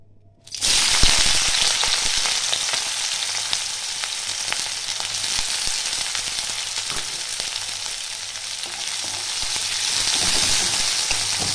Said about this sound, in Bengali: পেঁয়াজটা আমি একটু ভালো করে ভেজে নেব